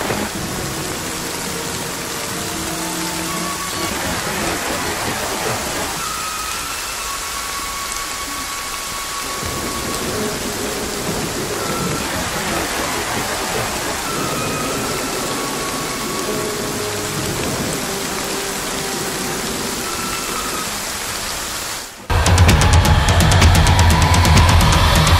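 Heavy rain pours steadily outside a stealth campsite near a creek and a large lake, a dense, constant roar with occasional deeper rumbles, then a sudden louder burst near the end.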